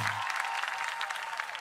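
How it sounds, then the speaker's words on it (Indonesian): Studio audience applause for Revi on a live duet TV show, a dense steady wash of clapping that holds evenly through the clip without anyone speaking. "tepuk tangan sekali untuk Revi dong"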